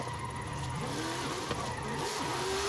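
A car in Forza Horizon 5 slides and skids in a long drift, its engine whining steadily as tire scrub rises toward the end, heard alone at moderate level.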